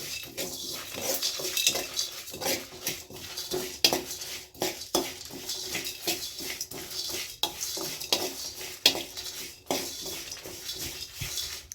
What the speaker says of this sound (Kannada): ಬಿಳಿ ಎಳ್ಳು, ಸೋಂಪು ಕಾಳು ಸಿಮ್ಮಲ್ಲಿ ಇಟ್ಕೊಳ್ಳೋಣ.